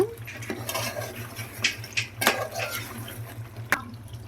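A chicken curry seasoned with chili powder is stirred in a pot, giving uneven metallic scrapes and clinks, close and moderately loud, over a low steady hum with no talking.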